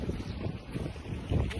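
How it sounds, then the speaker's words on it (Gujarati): Strong wind blowing outdoors on a cold day, loud rumbling gusts buffeting the microphone from start to finish. "આજે એટલો પવન છે અહીંયા, ફૂલ્લી સૌથી વધારે પવન અમને આજે જોવા મળ્યો"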